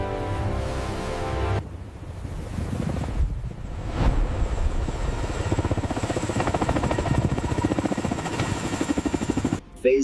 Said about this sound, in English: Heavy lift helicopters engaged.